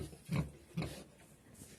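Two short, deep pig grunts about half a second apart, close by in a pigsty, followed by quieter snuffling.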